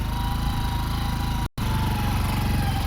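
A motorcycle engine runs steadily and close by, a rough continuous drone with a brief cut-out midway, no talking over it.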